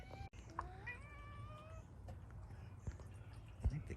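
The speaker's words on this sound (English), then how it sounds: "I think the cat's dying." A cat yowls and meows indoors, several drawn-out, wavering cries in quick succession near the start, fairly faint against a low background hum, then quieter scattered household noises.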